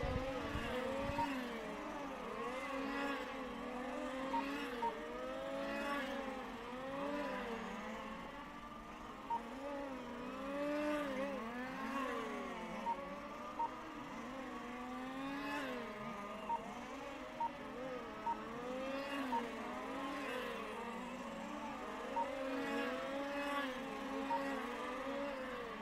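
Race cars lapping a track at a GT race, engines whining through repeated rising and falling revs as cars pass and shift, heard at a distance with a steady crowd-and-wind background over the whole lap.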